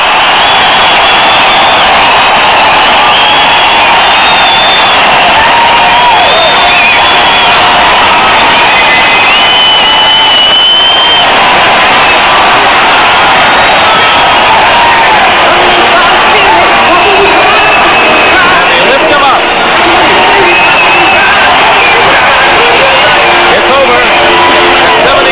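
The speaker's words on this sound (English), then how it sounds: "let's listen now to the crowd up there in Buffalo" A football stadium crowd in Buffalo roars and cheers continuously, a loud broad wash of massed voices with whistles and shouts rising and falling, heard from a distance as one unbroken din.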